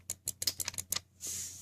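About eight quick, crisp clicks from a Mortal Kombat X fightpad's buttons in an uneven rhythm, close and quiet, followed by a brief soft hiss.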